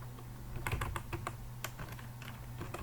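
Computer keyboard typing C++ code, a quick irregular run of soft clicks at close range, fairly quiet with a low steady hum underneath and no talking.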